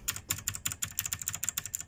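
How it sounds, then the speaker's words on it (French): Rapid typing on a Klim Domination mechanical keyboard with blue switches makes sharp, loud clicky keystrokes in quick irregular succession, close up. "On a ici mon clavier Klim Domination."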